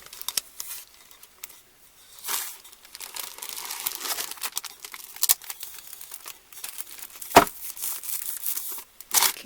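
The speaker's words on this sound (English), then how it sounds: "I'm going to put a piece of double stick tape" Double-sided tape is peeled, handled and pressed on while a candy cane centerpiece is assembled, giving close, soft crinkling and tearing rustles with sharp taps and brief pauses, with no talking.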